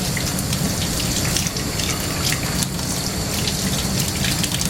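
Water runs steadily and splashes while soap is rinsed out of a paintbrush after painting a horse, a continuous gushing, faucet-like flow with small spattering drips throughout.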